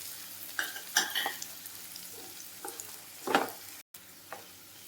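Sliced onions and green chillies frying in a pan for restaurant-style pasta, with a few stirring scrapes and soft sizzling bursts, close and fairly quiet, no talk.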